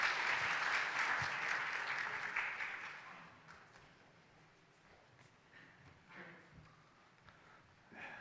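A church congregation at a Sunday worship service claps, a brisk round of applause that is strongest at first, then tapers to scattered claps and quiet room noise with a few faint sounds near the end.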